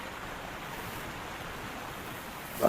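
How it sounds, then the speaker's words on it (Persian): Steady broadband rush of the Euphrates river flowing, continuous and fairly loud with no voices, ending in a brief louder swell. "صدای فرات را نمیشنوی؟"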